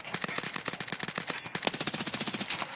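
Rapid automatic gunfire in the game Escape from Tarkov, a dense run of sharp shots fired in quick succession with a brief pause midway, loud and close.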